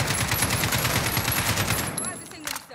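Rapid automatic gunfire from Call of Duty Modern Warfare on PS4, a dense continuous burst of repeated shots, loud and close, tapering off near the end.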